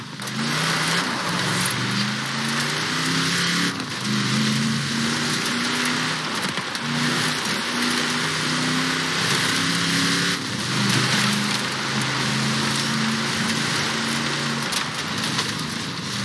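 A 6x6 off-road vehicle originally built for the Australian Army, with its speed limiter removed, drives in Forza Horizon 4, its engine a steady, loud droning rumble with gear-shifting pitch steps and continuous road noise throughout.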